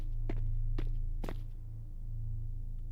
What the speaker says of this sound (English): I could have sworn I heard footsteps